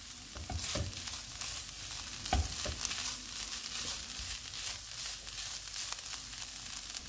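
Chicken momo filling sizzles steadily in a hot pan while it is stirred, the constant frying hiss broken by a few scraping knocks from the spoon, close and without talk.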